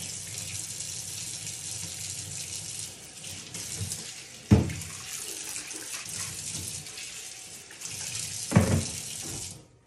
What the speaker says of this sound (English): Do a little rinse off here